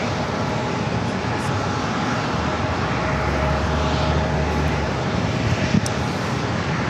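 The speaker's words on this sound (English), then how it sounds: "So Alaska SkyWest flight 3373 heading to Cosmo" Alaska SkyWest regional flight passing at San Diego airport, a sustained broad engine roar at moderate distance with a low rumble swelling midway, heard against outdoor background noise.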